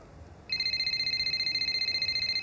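Phone ringing in the racing game F1 25: a loud electronic two-tone trill that starts abruptly and repeats in rapid steady pulses, alone with no talk.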